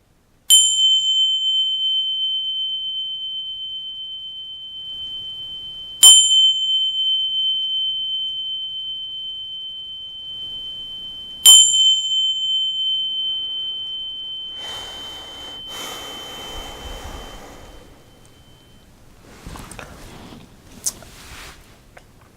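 A small meditation bell rung to close a chakra meditation ritual, three clear bright strikes spaced about six seconds apart, each ringing out and slowly decaying, followed by faint rustling and handling noises.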